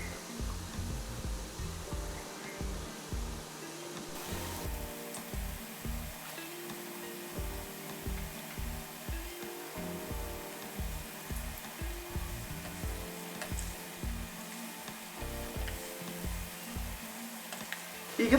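Masala cashew biscuits deep fry in oil over a medium flame, a steady, dense hiss of bubbling oil that runs without a break, with a soft rhythmic backing underneath and no voices.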